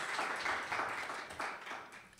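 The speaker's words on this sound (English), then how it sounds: "Please give David a round of applause." An audience applauding at an awards ceremony, a continuous wash of clapping from many hands, steady and moderately distant with no talk over it.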